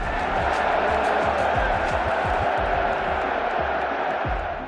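A dense boxing arena crowd roars and cheers steadily throughout, loud and sustained, with scattered whoops and shouts rising above the wash of noise.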